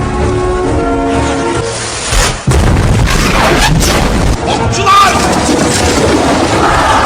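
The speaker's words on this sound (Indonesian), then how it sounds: "Suara meriam itu sangat keras hingga memekakan telinga dan langsung membuat tembok berlubang" The huge Basilica cannon of the Ottoman siege of Constantinople in 1453 fires as a loud cinematic effect. It is a dense, booming roar with a sharp break midway, and a narrator's voice sits under the heavy rumble.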